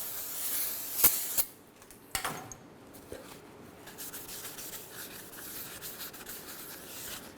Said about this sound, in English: Let's clean down our rotor braking surface.